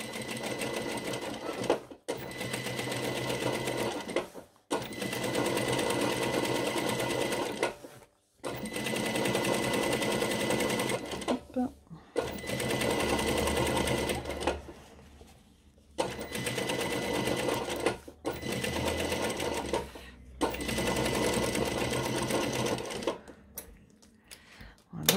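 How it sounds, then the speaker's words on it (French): A sewing machine topstitches a leather jacket in repeated loud, rapid bursts of mechanical stitching separated by short pauses, with a quiet voice heard in places. "dans la foulée, je continue ma surpiqûre de l'autre côté."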